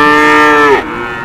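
A young female calf of three to four months, a breeding heifer at a cattle market, gives one loud, close moo that drops in pitch at the end and cuts off, with no talking.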